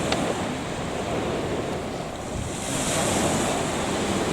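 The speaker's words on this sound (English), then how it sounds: "the sound of the sea" Sea waves wash steadily onto an early-morning beach, with dense, continuous surf close by and wind buffeting the microphone, swelling slightly near the end.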